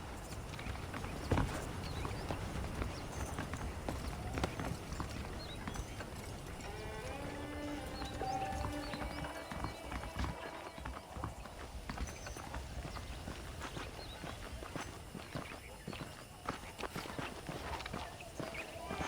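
Horse hooves clip-clop steadily at a brisk pace in the video game Red Dead Redemption, over a continuous outdoor ambience, with faint background music and occasional movement noises.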